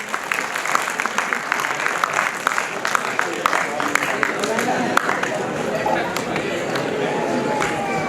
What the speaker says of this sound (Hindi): so please give a big round of applause for our chief guest